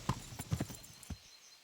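Horse hooves clip-clop in a quick, uneven run of hard knocks, fairly close, fading out at the end, from the video game Kingdom Come: Deliverance.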